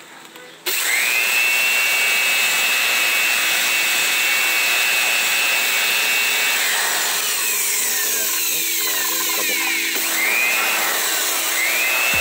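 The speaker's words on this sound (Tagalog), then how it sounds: "gamitan natin ng blower para mas madali sa una" Air blower cleaning the disc and drum brakes of a Mitsubishi Mirage Attrage G4, starting after a brief pause as a loud, steady, continuous rushing hiss with faint metallic whistles that lasts throughout.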